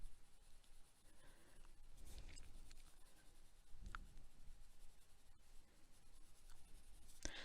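Light green colored pencil laying a light coat of shading on paper, a soft continuous scratchy rubbing in short strokes, quiet and close, with no talking.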